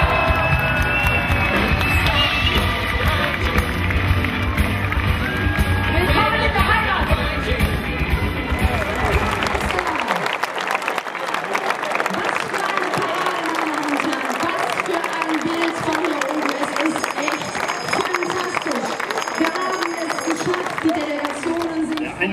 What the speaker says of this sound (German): ein Applaus für